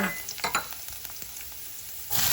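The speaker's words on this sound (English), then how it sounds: "So first I'm going to add garlic" Garlic sizzling in a hot pan over a high flame, with soft crackles and a few stirring clicks, then a sudden louder hiss near the end.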